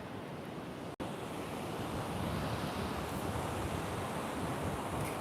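Ocean surf rolls onto Cannon Beach, Oregon, a continuous broad wash of waves with wind buffeting the microphone, steady and close with one brief dropout near the start.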